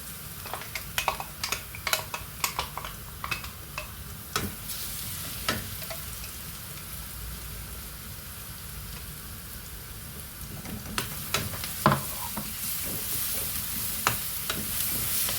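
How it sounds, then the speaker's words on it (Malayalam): Ground masala paste fries in a pan of browned ingredients for a tomato and lauki curry, with a soft sizzle under clusters of spoon-scraping clatter that thin out in the middle and pick up again near the end. "ഇപ്പോൾ നമുക്ക് ഈ മസാല അരച്ച മസാല ഇടാം ഇതിലേക്ക്."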